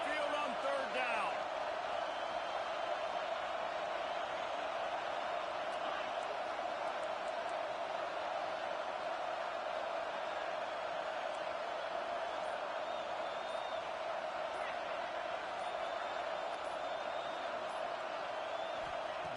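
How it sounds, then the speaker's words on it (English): Steady roar of a college football stadium crowd at Saban Field, home of the Alabama Crimson Tide, during a third-down play in a football video game, a continuous dense wall of noise that holds loud and even throughout. "The Tide crowd rolling noise down onto Saban Field on 3rd down."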